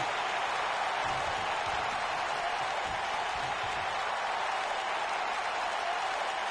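A wrestling event crowd cheers and applauds steadily throughout, a dense continuous roar with no pauses.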